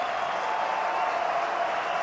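Rugby stadium crowd at a Treviso versus Connacht match applauding as a player leaves the field, a steady distant wash of clapping and crowd noise.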